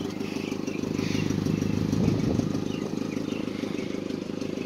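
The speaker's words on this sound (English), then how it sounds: "Check out this exhaust. That is insane." A 1994 Ford Ranger XLT pickup with an aftermarket DC Sports exhaust idles with a deep, steady exhaust rumble and a slight swell in the middle, close by, with no talking.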